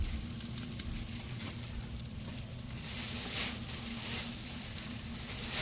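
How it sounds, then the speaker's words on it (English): Wagyu and USDA Prime New York steaks frying in a pan, fat sizzling with a constant crackling hiss and faint popping, close and steady, no talking. "On the Wagyu one, it has a lot more of the fat sizzling on top."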